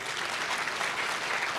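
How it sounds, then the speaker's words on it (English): Dense, continuous applause from an audience at an International Anti-Corruption Day event, a steady wash of many hands clapping at moderate volume with no talking over it. "Can you wake up and clap for my friend?"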